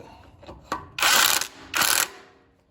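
A ratchet wrench tightens a nut on a Bolens Ride-A-Matic riding mower: two separate bursts of rapid, loud metallic clicking, close up, with brief handling knocks before them and no talking.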